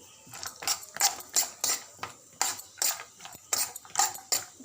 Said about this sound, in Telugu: బాదం పప్పు పలుకులు కొద్దిగా జీడిపప్పు వేసి బాగా కలపాలి